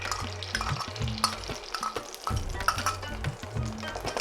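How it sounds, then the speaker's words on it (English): Cumin seeds and grated ginger sautéing in ghee in a pan for a tadka, a steady crackling sizzle with low repeated scraping and stirring, close and moderately loud. "1 teaspoon of cumin seeds, 1 teaspoon of grated ginger, and we are going to saute them slightly"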